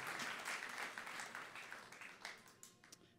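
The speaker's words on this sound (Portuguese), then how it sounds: "Por favor, dê uma salva de palmas calorosa para essa mulher linda, maravilhosa." A church congregation applauds warmly, a faint crowd of clapping hands that starts dense and thins into scattered, fading claps toward the end.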